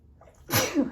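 A short breath in is followed by a single loud, sharp sneeze close by.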